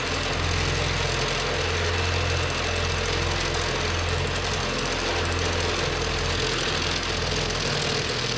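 Hammer drill boring through an outer brick wall for fitting up/down lights, a loud, close, continuous rapid pounding rattle with a grinding motor drone and no speech.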